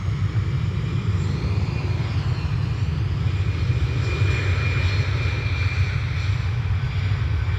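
An airliner roars through its takeoff and climb-out at Dublin Airport, a loud, continuous low engine rumble holding steady throughout with no voices.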